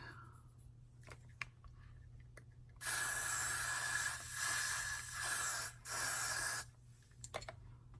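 A steady aerosol spray of glue hisses in several bursts lasting a few seconds each, close by, with soft clicks and rustling around them, while applying a lace front wig.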